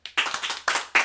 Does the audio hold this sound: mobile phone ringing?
no